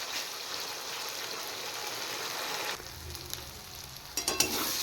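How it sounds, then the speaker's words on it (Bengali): Tomato-based masala fries in oil for a fish curry, with a dense steady sizzle and hiss, soft stirring scrapes, and a few louder spatula knocks against the pan near the end. "মশলা কষানো হয়ে গেছে"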